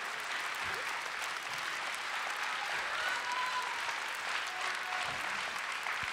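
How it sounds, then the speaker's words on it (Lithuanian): Audience applauding dancers after a thank-you dance performance, continuous dense clapping held at an even level for several seconds, with faint crowd voices underneath. "visi šie plojimai tik tai jums"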